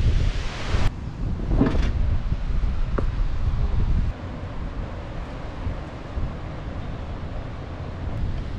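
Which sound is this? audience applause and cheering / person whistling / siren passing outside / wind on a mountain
wind on a mountain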